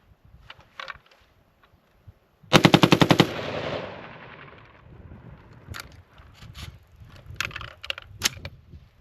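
A GAU-5-style rifle fitted with an Atrius Super Selektor, fed from Tango Down magazines, fires a loud, rapid string of shots, followed by a decaying echo and a few scattered clicks and handling knocks.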